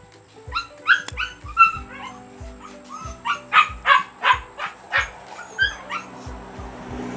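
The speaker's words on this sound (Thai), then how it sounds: "เสียงน้องหมานะครับมันหิวข้าวมันนะมันเย็นแล้วนะครับ" A hungry dog barks and yips repeatedly in a steady rhythm in the evening, close by, with a low mechanical hum underneath and no talking.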